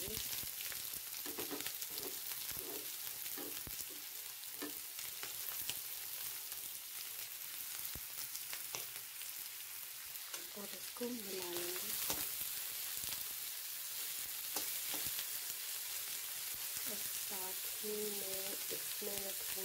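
Chopped vegetables sizzle in hot oil for a pasta dish, giving a loud, steady hiss throughout with occasional clatters of stirring and a few faint voices in the background.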